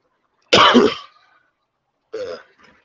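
A man gives one harsh, loud cough followed after a pause by a shorter, quieter throat clearing, close and alone with no talk.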